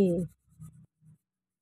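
Crayons rubbing on paper while a picture is colored in, a few soft short strokes following a brief spoken voice at the start, quiet and close.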